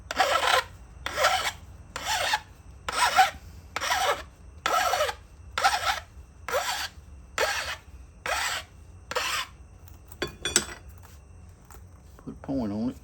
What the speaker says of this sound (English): I'm gonna just sharpen it up.